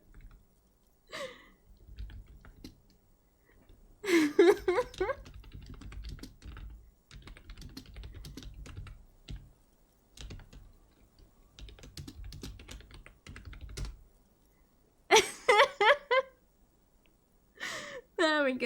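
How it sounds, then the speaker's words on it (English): Clattering keystrokes on a computer keyboard come in uneven bursts with pauses between them, close and fairly clear, broken up by a person's sighs and breathy vocal sounds. "Typing is hard, okay."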